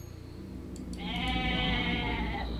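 A sheep bleats in the video game Age of Mythology, one drawn-out wavering bleat rising over a low rumbling game soundtrack, fairly quiet and with no talk.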